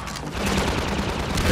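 Rapid gunfire in the Half-Life 2 video game, a dense, sustained burst of loud shots lasting the whole moment with no pauses.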